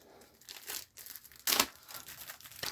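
Plastic packaging on a board game is cut open and torn away in close, uneven bursts of crinkling and ripping, with one sharp, loud tear in the middle.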